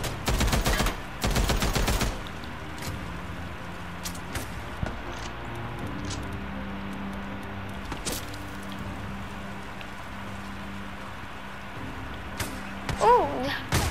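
Gunfire in the video game Days Gone, a loud burst of rapid automatic shots at the start, then scattered single cracks and impacts through a quieter ambient stretch.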